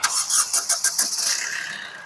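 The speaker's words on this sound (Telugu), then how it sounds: "ఇంజన్ అయితే స్టార్టింగ్ లో అయితే ఉంది" A 2017 Maruti Vitara Brezza ZDi Plus diesel engine cranks and catches, a quick run of rattly mechanical pulses settling into a steadier running noise, close and fairly loud.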